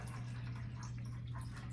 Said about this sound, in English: you pour in 1 cup of the warm water